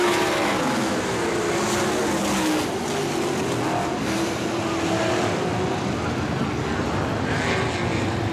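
Race cars roar around a dirt track during a B Main heat, a steady dense engine drone with rising and falling passes throughout, moderately loud and continuous, with a commentator's voice faint under it.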